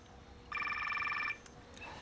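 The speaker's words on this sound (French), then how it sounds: "Téléphone." A telephone rings once with a bright electronic trill lasting under a second, close and clear over faint room noise.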